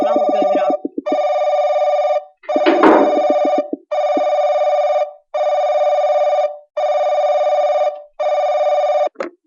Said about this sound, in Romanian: urât sună telefonul